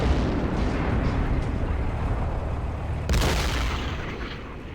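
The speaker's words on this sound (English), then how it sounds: "That flak cannon." Flak cannon fire in the Assault Squad 2 war game, a dense rumbling barrage of loud booms with a sharper blast near the end, over continuous battlefield noise.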